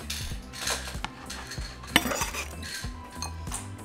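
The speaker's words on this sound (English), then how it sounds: "So we're going to transfer them into a bowl." Cooked hot dogs are moved from a pan into a bowl, giving a few metallic clinks and scrapes of utensil against cookware, close and moderately loud with no talk.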